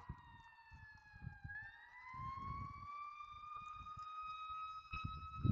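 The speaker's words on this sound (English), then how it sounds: "there's an ambulance right behind me" An ambulance siren sounding close behind a person on a street, a clear wailing tone that dips then rises and holds, over low traffic rumble, fairly faint overall.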